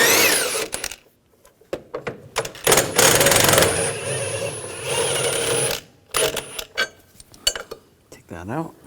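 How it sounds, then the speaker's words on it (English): A socket wrench with a 15mm socket removes bolts from a bar on a 2007-2013 BMW X5 3.0L inline-six, giving bursts of metallic ratcheting and clanking between quiet gaps, close and loud. "use a 15mm socket, take these bolts out"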